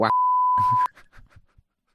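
A steady, loud electronic censor beep tone cuts over a voice for most of a second, then brief muffled speech fragments trail off.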